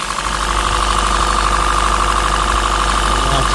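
A 2014 Honda Grace Hybrid engine running loud and close with a steady, uneven knocking roughness from a misfire, continuous for a few seconds with no talk.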